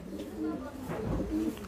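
Domestic pigeons, young birds being trained to their loft, coo in low, throaty repeated calls close by, several overlapping phrases over quiet background.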